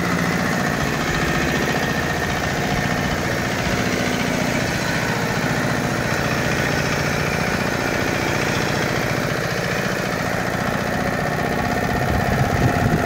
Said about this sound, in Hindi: ये था हमारा 5 HP वाला ट्रैक्टर, अभी चालू करके दिखाया वो